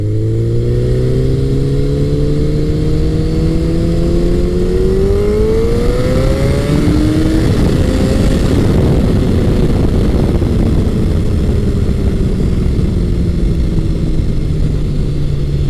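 A Honda CBR1100XX Blackbird motorcycle accelerates hard, its engine note climbing steadily in pitch as it revs up, then levelling into a loud, sustained roar that stays close and continuous throughout.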